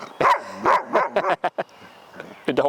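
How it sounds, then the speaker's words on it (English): Dogs in leash-reactivity training trade soft, subdued woofs and little yips back and forth, a handful of short close barks in quick succession with brief pauses. "The subtlest little woofs."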